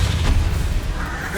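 A Confringo spell blast in the Hogwarts Legacy video game: a dense, low, rumbling boom that fills the moment, with a brief burst near the start and sustained booming energy throughout.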